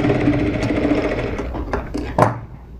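A sewing machine stitches a blouse with puff sleeves, running in a steady close whirring rhythm with a few sharper mechanical clicks and knocks toward the end.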